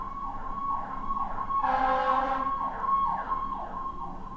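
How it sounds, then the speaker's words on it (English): Fire truck sirens wail outside, rising and falling in repeated sweeps, with a louder horn-like blast in the middle, moderately distant. "you're probably hearing a little bit of sirens right now"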